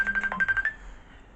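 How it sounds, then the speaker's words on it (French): A phone ringtone plays a quick series of electronic chirps for under a second, moderately loud, then fades into quiet room background. "le téléphone sonne"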